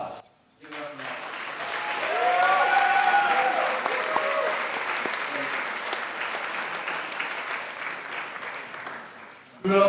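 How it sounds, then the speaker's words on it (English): Wedding guests applaud and cheer for the groom during reception speeches, a full burst of clapping that rises quickly, holds loud for several seconds and then tapers off, with a few cheering voices mixed in. "I think the groom tonight deserves a round of applause."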